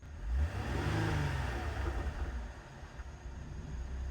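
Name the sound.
Cadillac CTS engine running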